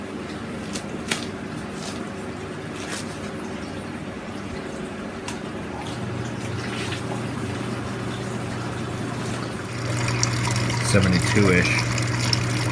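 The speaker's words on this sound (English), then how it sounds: "I'm gonna turn up the pump though, just so that I don't get it into my fermenter at like 30 degrees." A brewing pump runs steadily, pushing homebrewed wort into a fermenter with a continuous liquid rush and hum that swells louder toward the end as the pump is turned up, with a person talking over it.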